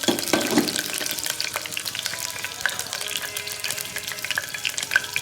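Ginger sizzles and fries steadily in a hot pan while cooking kitchari, a loud continuous crackle with occasional stirring scrapes, close up and without talk.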